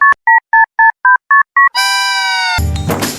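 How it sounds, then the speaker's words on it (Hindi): A quick run of seven electronic keypad beeps in even rhythm, followed by a sustained telephone tone that cuts into a burst of noise. "विष्णु फोन कर बदे।"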